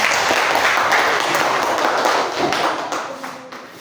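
Classroom applause from students during a lesson, a loud burst of quick clapping taps lasting a few seconds and then tapering off.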